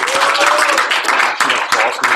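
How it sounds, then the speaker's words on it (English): Applause from an audience at a company meeting, a dense, steady wash of clapping that fills the whole stretch with a faint tonal whistle or cheer threading through it. "Give everyone a round of applause."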